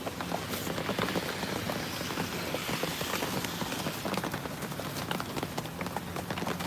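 Heavy hurricane rain pours down steadily, a dense hiss with scattered drops pattering on hard surfaces, loud and continuous with no voices.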